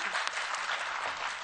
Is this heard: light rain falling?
no